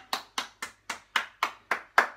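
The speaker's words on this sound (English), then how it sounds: "Give yourself a clap" Hands clapping at the end of a home workout round, eight sharp, evenly spaced claps in a steady rhythm, close and fairly quiet with nothing else around them.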